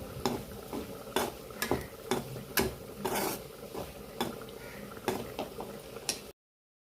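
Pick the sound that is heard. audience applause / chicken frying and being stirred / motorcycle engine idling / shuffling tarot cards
chicken frying and being stirred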